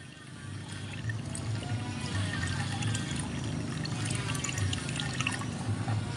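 Water pours steadily into a container being filled to the 5 liter line, a continuous close splashing and gurgling stream with no one talking.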